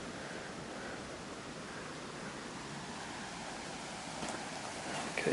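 Creek water rushes steadily at close range outdoors, a broad constant wash of flow with no breaks and faint rustling near the end, no voices.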